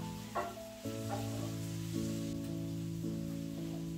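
Pumpkin soup ingredients sizzle softly in a pot while being stirred, with a few light scraping strokes over a low, steady hum and a quiet frying hiss, with no talk.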